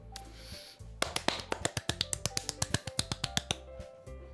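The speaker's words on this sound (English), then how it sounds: "I'm the first to start applauding." Applause sound effect in the Doki Doki Literature Club visual novel: a quick, even run of about twenty crisp, close claps at a steady rhythm, starting abruptly and stopping cleanly over a faint background.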